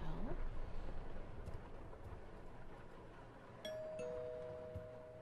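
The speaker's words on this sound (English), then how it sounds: "That was the front doorbell." A front doorbell rings in the survival horror game Suffer The Night, a faint single chime with a lingering tone over a low stormy background rumble.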